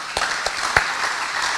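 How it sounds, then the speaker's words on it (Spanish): An audience at a Peruvian engineering congress applauds to welcome a speaker from the national grid operator: a brief, steady wash of clapping with a few sharper individual claps standing out. "para el cual lo recibimos con un fuerte aplauso"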